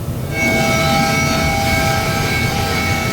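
A search-and-rescue helicopter flies over the site of a ferry fire, producing a loud, steady engine and rotor roar that swells in and holds constant with a sustained whine on top.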